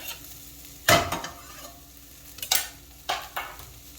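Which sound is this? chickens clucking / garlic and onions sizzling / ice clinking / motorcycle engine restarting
garlic and onions sizzling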